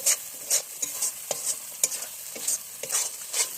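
Grapes and nuts stir-fried together in a pan for a semolina grape barfi. A steady rhythm of sharp spatula scrapes recurs about every half second over a soft background sizzle, with no talking.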